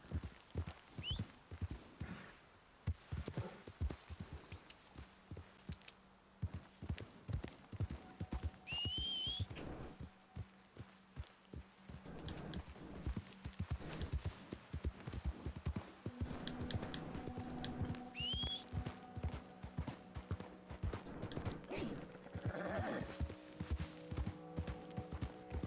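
Repeated hoof clip-clops from Red Dead Redemption 2, with brief horse whinnying calls rising above a steady ambient background and some faint tonal sound effects.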